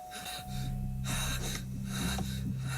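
A sharp, panicked gasp of someone jolting awake, then quick, shaky breaths over a low sustained musical drone.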